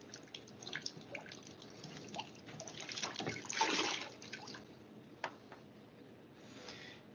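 Water trickles and drips from the removable lower cleanout of a residential FT Series boiler's two-piece condensate trap, a quiet, steady wet splashing with a brief louder gush partway through.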